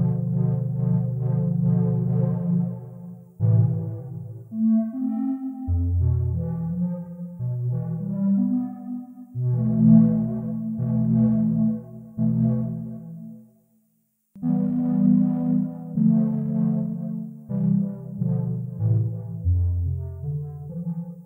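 A Baby Audio BA-1 synthesizer plays a slow sequence of sustained, warm low notes and chords with added reverb, alone with no talking, with a brief pause midway.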